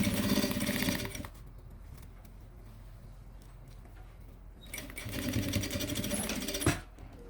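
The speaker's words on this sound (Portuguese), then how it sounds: "Vou pegar o meu forro e vou costurar ele do lado de cá." A sewing machine stitches the fabric lining of a Kipling-style pouch in two bursts of fast, buzzing stitching, with a quiet pause between them and a brief clunk near the end.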